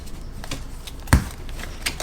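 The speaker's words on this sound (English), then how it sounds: "I suck at shuffling sometimes. This is a really huge deck." A large tarot card deck is shuffled by hand in a few quick, soft riffling bursts, one sharper snap standing out midway, close and alone.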